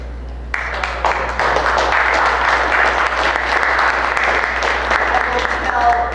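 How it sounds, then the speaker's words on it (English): Audience applause at a poetry reading swells in after a brief quiet moment and holds steady, a dense, even patter of many hands clapping throughout. "you applauded quietly"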